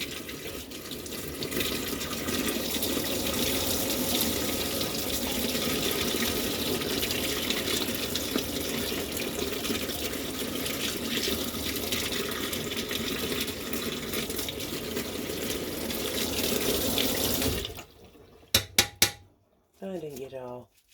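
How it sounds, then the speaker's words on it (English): Hot water running from a tap into a sink during a morning routine, a steady loud gushing stream that stops near the end, followed by a few brief knocks and clatters. "I got on hot water."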